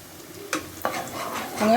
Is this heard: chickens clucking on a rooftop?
no